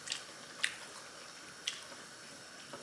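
Glass noodle japchae being eaten close to the mic, with quiet, wet smacks and clicky chews spaced irregularly over a soft hiss.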